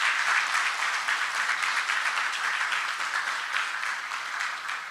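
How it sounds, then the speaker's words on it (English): A crowd applauds for the 804 Rise Up team at a meet-and-greet listening session, steady dense clapping sustained throughout, fairly loud and gradually tapering, with no voices over it. "One more round of applause."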